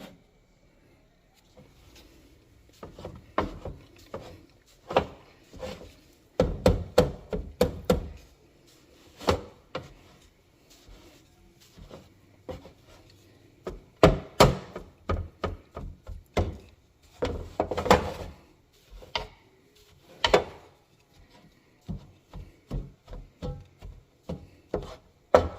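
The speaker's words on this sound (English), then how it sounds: "I'm just going to start sort of crumbling and cutting the cake into cubes" A knife chops cake into cubes inside a pan, making repeated close knocking and scraping strokes in uneven bursts that run throughout.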